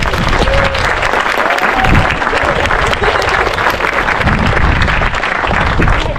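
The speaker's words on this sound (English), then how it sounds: "let's have a round of applause for our group leaders" A group of runners applauds their group leaders, dense steady clapping with some cheering lasting throughout, loud and close, with no clear speech over it.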